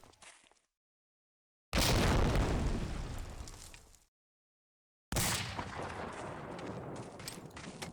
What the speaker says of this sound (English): a big nade by Eastern to take out skills